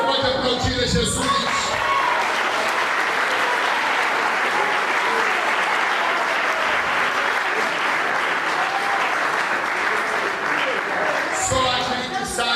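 A church congregation applauds, sustained loud clapping from a large crowd with some cheering, while a voice speaks over it near the start and end.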